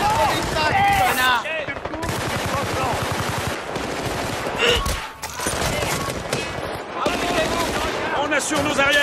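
Gunfire in Battlefield: Bad Company, rapid automatic bursts and single shots close and loud, mixed with shouting soldiers talking over the firing.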